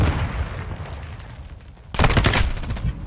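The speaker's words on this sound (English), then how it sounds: "Throwing flash grenade!" A flash grenade detonates in the Modern Warfare 2 multiplayer video game, a sudden loud broadband blast around the two-second mark. It follows quieter background game ambience and leaves a bright ringing tone trailing after it.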